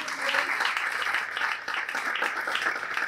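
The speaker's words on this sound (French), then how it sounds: "ça s'applaudit" Sustained audience applause at an awards ceremony in Pointe-Noire as a winner is honoured, dense steady clapping from a crowd holding even for a few seconds.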